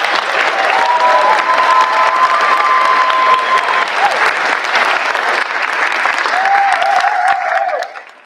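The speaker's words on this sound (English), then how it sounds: "Please join me in giving them one round of applause together." A concert audience at a high school spring concert applauds steadily and loudly for several seconds; some tonal sound and faint cheering run beneath the clapping, which then fades out at the end.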